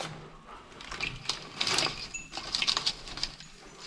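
Light metallic clinks and rattles as wire trapping snares drop into a pot of nearly boiling water, several soft clatters over a couple of seconds, close by.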